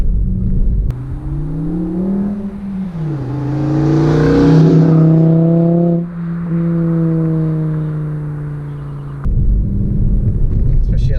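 A 2012 Mk6 Volkswagen Golf 2.5 engine revs up loudly, its pitch rising and holding, then easing back down before settling into a steady, throaty rumble.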